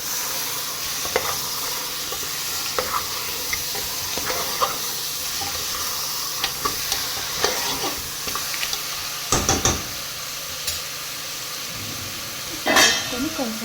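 Mutton sizzles steadily in a pan as it is stirred for a long stretch. A spoon clinks and scrapes at irregular moments, and a louder rustling burst comes near the end.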